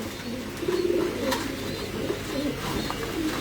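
Pigeons coo softly at a pigeon farm in Mirpur, Dhaka, with low, rounded calls repeating over a quiet background hum.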